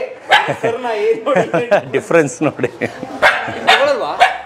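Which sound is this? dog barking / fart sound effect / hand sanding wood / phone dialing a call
dog barking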